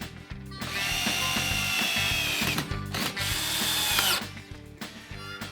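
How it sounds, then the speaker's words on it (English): A power drill drives screws at an angle into the ends of a wooden door header while framing a widened doorway, its motor whining in several loud bursts with ratcheting clutch chatter and brief pauses between. "The ends of the header are attached in place with screws driven in at an angle, a process called toe nailing."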